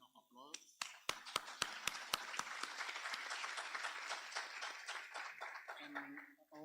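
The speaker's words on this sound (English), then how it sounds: "let's all thank our speakers and give them a round of applause" Audience applause for conference speakers at the close of a Vienna Programme of Action session for landlocked developing countries, opening with a few sharp separate claps that swell into sustained, fairly distant clapping before fading.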